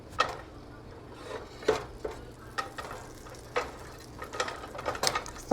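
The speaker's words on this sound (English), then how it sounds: "I'm just going to stir the ingredients around in the skillet" A utensil stirs ingredients around a buttered skillet, making irregular scraping clicks and knocks against the pan over a soft, steady sizzle, close by with no talking.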